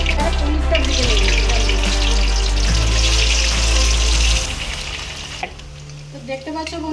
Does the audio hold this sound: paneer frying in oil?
yes